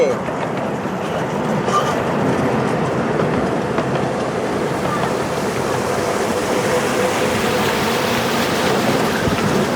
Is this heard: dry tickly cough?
no